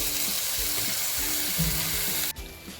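Small live river prawns fry in a hot pan with loud, steady, close sizzling that drops off abruptly near the end, followed by faint crackling.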